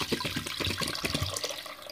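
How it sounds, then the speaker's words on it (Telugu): One litre of water poured from a vessel onto half a kilo of mutton in a pot for soup, a close, splashing, gurgling pour lasting a couple of seconds before easing off. "ఇది 1/2 కేజీ కాబట్టి 1 లీటర్ పోస్తున్నాను"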